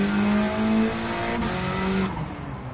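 Honda Type R race car tuned to about 500 horsepower in Gran Turismo 7, its engine revving hard with a steady high whine that shifts pitch, then dropping off near the end; loud and close, no talking.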